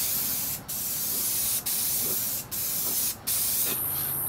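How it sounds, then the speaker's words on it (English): Spray can of crackle paint hissing in four steady bursts separated by brief pauses, close and fairly quiet, with faint cricket chirps in the background. "I'm gonna blast it with this crackle paint, it's all I got left."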